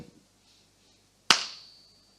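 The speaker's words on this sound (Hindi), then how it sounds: "मैं ताली बजाता हूं" One sharp, close hand clap cracks out after a near-silent pause, its bright snap ringing briefly before fading.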